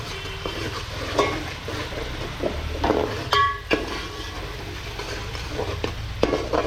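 Ground spice paste, the masala base for a Koli-style red snapper fish curry, cooks slowly in oil on low heat with a soft steady sizzle, intermittent spoon scrapes and a metallic clink against the pot.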